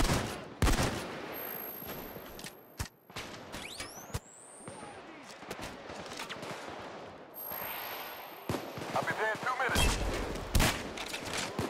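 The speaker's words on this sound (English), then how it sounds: "Got a sniper up and we're taking shots." Gunfire in the Payday 2 heist game, with sharp, loud, irregular shots and bursts, a whining sweep of game sound effects in between, and players' voices chattering over the action.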